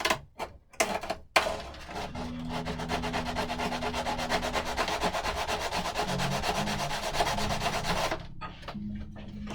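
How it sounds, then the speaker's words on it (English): A sanding block rubs back and forth along the edge of a cut piece, making a steady, close scratchy rasp that runs for several seconds after a few short strokes, with low hum underneath. "Just take my sanding block and I just want to clean the edge up."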